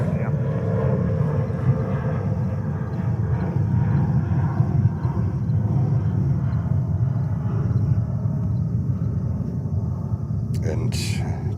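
An El Al airliner departing JFK airport, its jet engines producing a loud, steady low roar throughout, with a voice talking faintly over the rumble.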